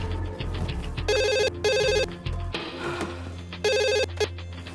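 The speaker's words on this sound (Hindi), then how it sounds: "आप फोन की घंटी सुन रहे हैं या मेरी बात?" A telephone bell rings in bursts of three loud electronic trills with short gaps between them, sounding close in an indoor office setting over a low background hum.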